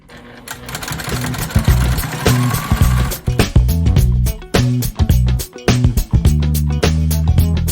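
Home sewing machine stitching along the pressed edges of fabric gift wrap, a loud close whir broken into rapid bursts with brief stops and restarts, running alone without talk.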